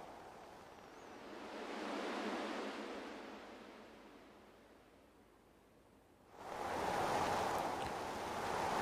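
Flowing creek water ambience in a real-time audio scene with falling leaves: a steady broadband rush that swells and fades, then jumps louder after about six seconds, with no voices.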